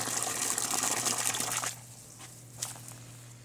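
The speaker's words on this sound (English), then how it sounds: "Put some more water in the hole" Water gushes steadily into a planting hole for blueberries for a couple of seconds, then stops, leaving a quiet background with a few faint drips and splashes.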